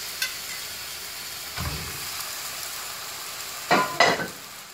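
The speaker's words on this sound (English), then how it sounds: "after you stir fry or saute the vegetable for a couple minutes, you want to go ahead and add your noodle back in." Vegetables and noodles stir-frying in a hot pan, a steady sizzle running throughout with a few scraping stirs, including two stronger strokes near the end.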